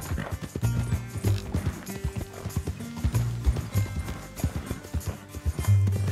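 Horse hooves clip-clopping in Red Dead Redemption 2, a steady galloping rhythm of close, fairly loud hoofbeats with occasional snorting, alone without talk.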